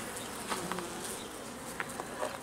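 Honeybees buzz around an open beehive frame as a beekeeper lifts it out, a steady insect drone with a few individual bees flying close past and fading away. No one speaks.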